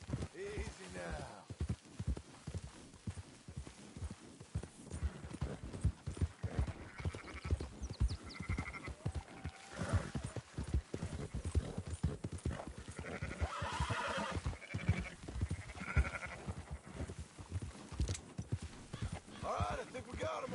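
In a video game, a horse's hooves clip-clop steadily along while sheep are herded, with occasional bleats and whinnies, all under ongoing character dialogue.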